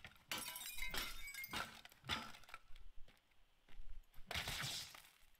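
Porcelain, glass and metal objects break in a Teardown game scene, several sharp shattering crashes and crunches in separate bursts with short quiet gaps between them, fairly quiet overall.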